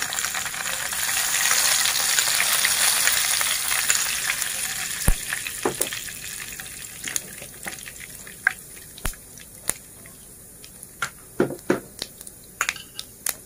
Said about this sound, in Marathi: मी इथे दोन चमचे तेल तापत ठेवलेलं आहे आणि त्यामध्ये आता आपण एक चमचा जिरं घालूया